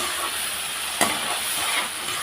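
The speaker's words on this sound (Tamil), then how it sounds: "அவ்வளோ சேர்த்து நல்லா வதக்கிடுவோம்" Tomatoes with half a spoon of sugar sauté in a pan for hotel-style tomato chutney, a steady close sizzle with a brief stirring scrape near the middle and no talk.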